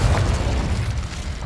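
A Confringo blasting spell detonates in Hogwarts Legacy, a loud, dense rumbling explosion with a heavy low boom that holds steady throughout without dying away.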